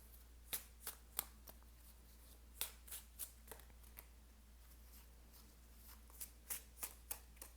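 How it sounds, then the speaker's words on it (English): A deck of tarot cards is shuffled in a quiet room, giving crisp, close riffles and flicks in irregular bursts over a low steady hum, with no talking. "I'm going to grab a few more cards just to kind of get a clearer picture."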